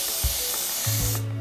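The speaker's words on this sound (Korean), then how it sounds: "모발을 이렇게 가지런하게 두고 스프레이를 뿌릴 건데요." Hairspray sprays onto the ends of the bangs, which are held up to keep their volume. A close, steady hiss lasts about a second, then cuts off.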